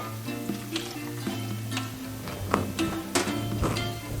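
Beer being whisked into schnitzel batter, with quick rhythmic taps and scrapes of the whisk against the bowl over a fizzy crackle and a low steady hum in the background.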